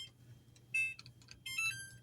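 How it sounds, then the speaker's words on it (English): Short electronic beeps sound as a kitchen timer is set beside a stove where a cookie mixture is boiling, with soft button clicks between the tones. "So we're going to set a timer"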